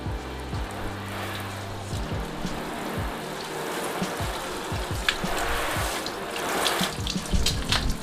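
Water is sprayed steadily over a coated car panel in a garage, giving a continuous hissing splash with drips and patter running off the surface. The sound is close and moderately quiet.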